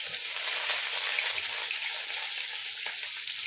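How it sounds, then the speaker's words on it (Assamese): Onions frying in hot oil in a wok for an Assamese pork dish, a dense, even sizzle that holds steady and close for a few seconds, with no voices over it. "অলপ ভাজি ল'ম পিঁয়াজখিনি।"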